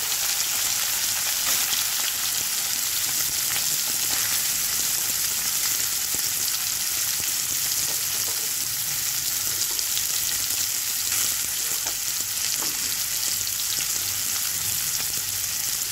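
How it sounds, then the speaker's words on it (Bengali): Soybean chunks frying in hot oil in a pan after potatoes, a steady, dense sizzle with crackling that carries on unbroken and close throughout, with no voices. "সয়াবিনটাকে ভেজে নেব"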